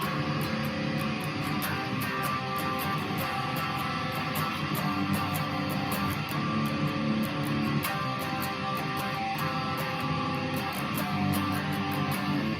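Full-band strummed guitar playing the chorus of a song steadily with a driving, even rhythm, loud and continuous throughout, no voices.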